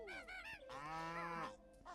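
Cow mooing in the video game Banjo-Kazooie, a short cartoonish moo rising and bending in pitch, close and clear, with a brief bleat-like call just before it.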